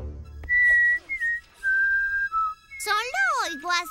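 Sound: someone whistling

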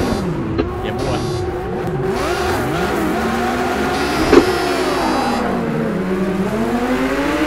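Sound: race cars starting in Project Cars 2 (video game)

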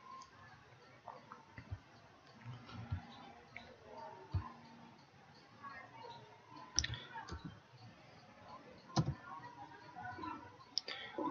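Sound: typing on a computer keyboard

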